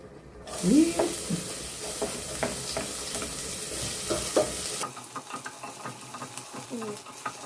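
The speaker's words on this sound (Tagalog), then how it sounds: "Gayatin natin ang sibuyas. Saute na tayo." Chopped onion being sautéed in a pan, a steady close sizzle with stirring scrapes and clinks that turns quieter partway through, with no talk.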